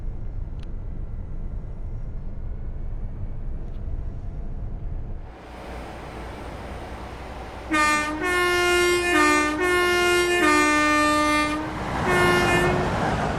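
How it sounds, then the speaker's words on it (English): A cross-country train passes in Train Sim World 6 on the Riviera line, with a low rumbling approach followed by a loud, multi-tone horn sounded in several long blasts over the rolling noise. "There's that cross-country train."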